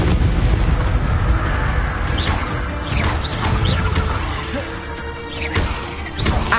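Hogwarts Legacy spells being cast in quick succession, a loud continuous barrage of booming blasts, crashes and sharp bursts layered over one another, with whooshing effects rising throughout.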